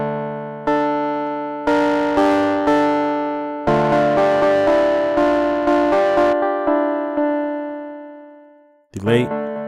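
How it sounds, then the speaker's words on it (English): Synth plugin patch with distortion added, playing a sequence of plucked notes and chords that each decay, close and clear, with a short burst of another sound at the end. "Let's add some distortion."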